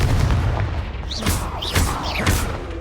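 Confringo fire spell blasts in the video game Hogwarts Legacy, several sharp whooshing bursts with rising streaks, over a loud constant rumble of game background noise.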